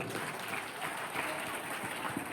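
Audience clapping fills a school Shivaji Jayanti lecture hall, a dense, steady wash of many hands applauding together, close and sustained through the whole moment with no clear pause.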